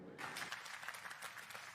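An audience claps together, a dense, fairly faint patter of many hands that starts abruptly and carries on steadily.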